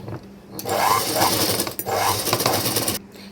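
A domestic sewing machine stitches fabric lining onto a garment piece in steady whirring bursts, a brief pause near the middle and an abrupt stop toward the end.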